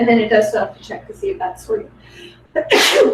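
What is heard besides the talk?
sneeze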